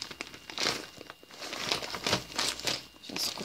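Plastic packaging of an AliExpress parcel crinkling and rustling as it is opened, a steady close-up run of crackling crumples with louder surges, no voices.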